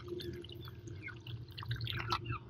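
Dissolved dewormer solution for Aseel chickens is poured into a water pot, giving soft trickling and dripping splashes over a low steady hum in the background.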